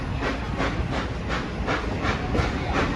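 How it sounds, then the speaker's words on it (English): NKP 765, a steam locomotive, chugs uphill on an upgrade with a steady run of loud exhaust beats, about three per second, over continuous hiss and rail rumble, close and without talk. "now we're going upgrade, so we're going to be chugging a bit"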